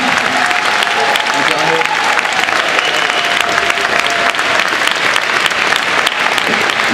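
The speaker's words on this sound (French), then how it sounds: "On les applaudit." Dense, sustained audience applause filling a hall at a festival event, loud and continuous, with a voice faintly audible underneath.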